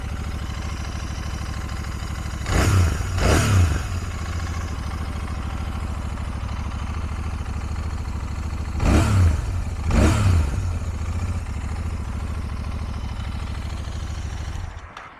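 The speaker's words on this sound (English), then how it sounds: "let's give it a few revs here so you can hear that awesome dual exhaust" A 2022 Royal Enfield Interceptor INT650 with a dual exhaust idles steadily up close, broken by two pairs of quick throttle blips that swell into short revs and drop back to idle.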